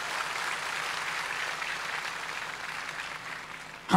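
A crowd at a church healing crusade applauds for God, sustained, even clapping heard from within the congregation, steady throughout before a sudden louder burst at the end.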